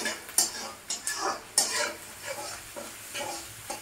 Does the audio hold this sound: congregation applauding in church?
no